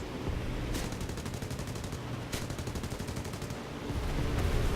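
Bomber gunners firing machine guns in the War Thunder video game, rapid bursts of gunfire over a constant engine roar, with no voices.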